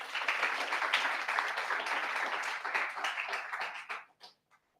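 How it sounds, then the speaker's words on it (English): An audience at a livestreamed startup pitch event in a co-working space claps together, a fairly soft but continuous round of applause that tapers into a few scattered last claps. "Big applause."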